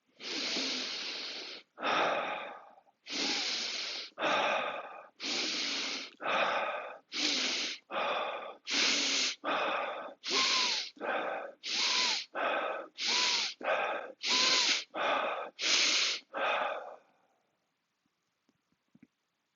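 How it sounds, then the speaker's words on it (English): Deep, forceful breaths in and out during a breathing meditation, about ten paired inhale-exhale cycles in a steady rhythm, loud and close with no talking, fading to silence at the end. "Okay, so 10 deep breaths."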